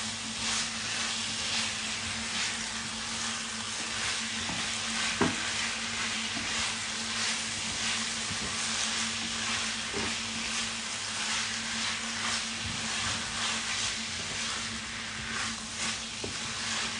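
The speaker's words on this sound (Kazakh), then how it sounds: "осылай бір араластырып аламыз." Chicken frying in a pan and being stirred, a loud, steady close sizzle with occasional scraping and clinking of the utensil throughout.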